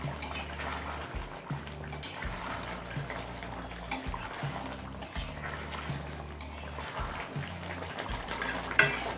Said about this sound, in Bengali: গরম মশলা দিয়ে ভালো করে মিশিয়ে নিলাম